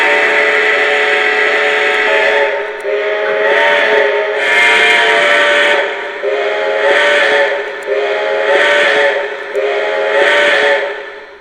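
A Lionel Union Pacific 4-12-2 #9000 model steam locomotive's whistle sounds in several repeated toots with short breaks between them, loud, close and breathy, mixed with hiss.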